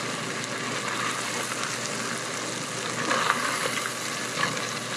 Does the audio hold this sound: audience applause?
no